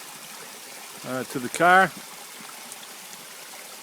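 A waterfall-fed stream on Mt Greylock gives a soft, continuous rushing hiss from a moderate distance. Someone speaks briefly over it.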